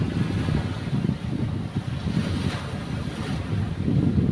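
Rough surf churning steadily with heavy low rumble and wind buffeting the microphone, no voices, continuous throughout.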